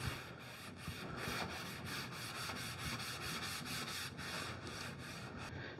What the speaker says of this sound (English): get a tack rag and get the rest of the dust off of this